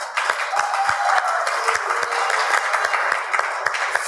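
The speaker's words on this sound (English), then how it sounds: "you should applaud as loudly and as generously as you can" An audience applauds at an award event, a steady, moderately loud wash of clapping from many hands throughout with a few distinct claps standing out.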